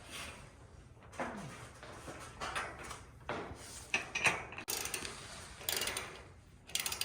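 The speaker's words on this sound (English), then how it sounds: "So I'm bolting down the roof rack to the brackets" A hand ratchet bolts a roof rack down onto its brackets on a 2021 Ford Transit van. It gives off repeated clicking strokes in uneven bursts, close up, with some clattering handling noise in between and no speech.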